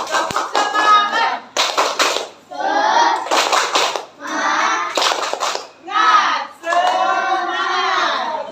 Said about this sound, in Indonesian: Beri tepuk semangat dulu supaya mereka semangat.